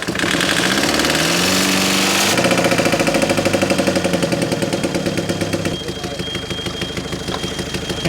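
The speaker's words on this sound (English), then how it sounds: "Caddy's idling, isn't it? It's running." A VW Caddy van with 490,000 miles idles just after starting, giving a loud, steady mechanical chug with a rapid knocking rhythm that drops slightly in pitch and level partway through.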